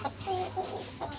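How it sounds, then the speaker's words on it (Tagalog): Roosters on a small chicken farm cluck in short close-up bursts, a few quick calls over steady background noise. "labas natin yung tatlong mga tandang"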